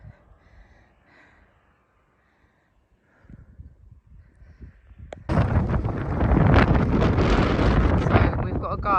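Strong wind high on Snowdon mountain in Wales buffets the microphone. The clip opens nearly quiet with a few light gusts, then a sudden heavy blast of roaring wind takes over for the last few seconds.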